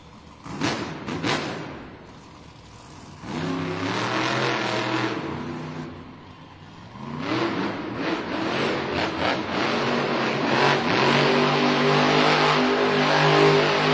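A monster truck, Jurassic Attack, revs its engine hard in an indoor arena at a Monster Jam event in Green Bay, with loud rising and falling roars in several long bursts and a brief pause between them.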